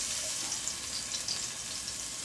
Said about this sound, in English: Well, let's put a little oil in the pan. Got a hot pan going over here. Add my onions.